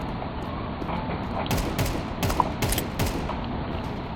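Gunfire in a Counter-Strike 2 match on a community server: several sharp shots in quick bursts over a steady, loud game background.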